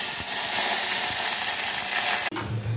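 Curry leaves sizzling in hot oil with cinnamon, cloves and bay leaf for a dal tempering, a bright continuous crackle that cuts off abruptly near the end, giving way to a quieter low bubbling.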